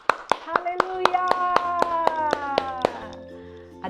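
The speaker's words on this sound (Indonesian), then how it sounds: "berikan tepuk tangan yang meriah buat Tuhan Yesus" Rhythmic hand clapping from a children's online church worship service, about a dozen sharp, evenly spaced claps over a sustained sung or held voice, fading out near the end.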